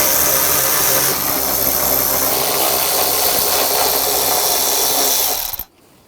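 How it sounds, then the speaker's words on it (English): A power driver with an 8mm socket runs nuts off the tail light of a 2009-2010 BMW 535i xDrive, giving a steady, close mechanical whir that lasts about five seconds and then stops abruptly. "And using a 8mm socket,"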